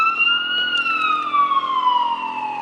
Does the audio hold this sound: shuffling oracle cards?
no